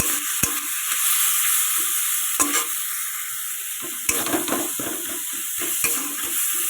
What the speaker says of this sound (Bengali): আমি কড়াইতে তেল দিয়ে দিয়েছি হালকা একটু কালো জিরে ফোড়ন দিয়েছি আর লঙ্কা দিয়েছি আর টমেটা